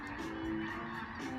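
Honking birds fly overhead on a spring bike ride, their calls faint and a little distant, repeating in uneven bursts over soft background noise.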